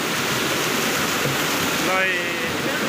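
Muddy water rushing down a road and flowing toward houses during a landslide, a steady loud wash heard close, with a person speaking over it briefly.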